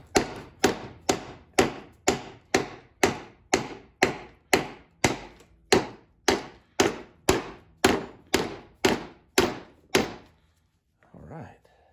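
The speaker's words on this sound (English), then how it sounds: "We're going to use this to hammer the racer in the" A wooden block hammered down onto a bearing race for a Trailex SUT 200 trailer for a Hobie Tandem Island, about eighteen sharp, evenly spaced loud knocks that stop abruptly, followed by faint handling noise.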